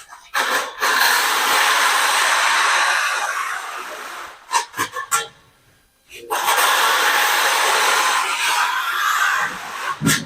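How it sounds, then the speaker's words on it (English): A vacuum cleaner sucks up loose sand left from a flake and silica broadcast floor coating job, a loud, steady roaring hiss in two long runs broken by a short pause with a few knocks and near-silence. "we're going to vacuum this up"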